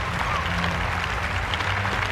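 Tennis crowd applauding as Taylor Fritz wins for Team USA over Team Canada: a dense, steady wash of clapping from a large arena crowd with a low murmur underneath, heard only briefly.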